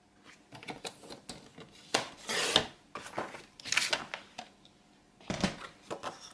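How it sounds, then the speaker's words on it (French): A paper trimmer slices a 9 cm wide strip of card for a scrapbooking album, giving several short rasping cuts with brief pauses between strokes, close and moderately loud, with no talking. "Vous prenez votre massicot. Et on va découper un premier morceau à 9 cm."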